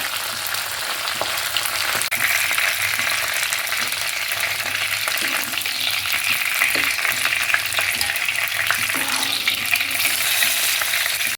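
Dried red chillies fry in oil over a medium flame, giving a loud, continuous close sizzle with scattered crackles and faint pan scrapes. No one speaks.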